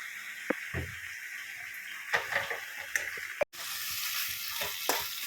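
Spice masala for a paneer, poppy seed and capsicum curry fries in a pan, a continuous close sizzle dotted with stirring clicks and a brief dropout midway.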